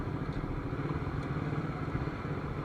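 A Honda CBR 150 clutch motorcycle rides along at a steady low engine drone, quiet and continuous with no voices.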